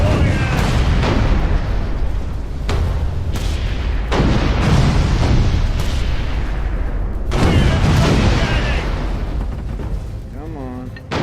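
Ship cannons fire in broadsides during a naval combat game, a run of loud booming blasts with rumbling tails spread through the stretch, heavy and close, with someone talking over the battle.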